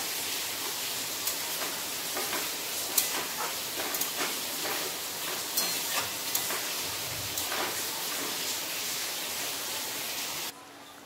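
Straw mushrooms with ridge gourd, potato and spices simmer in a pan after water is added, making a steady close sizzling hiss with scattered small stirring clicks throughout.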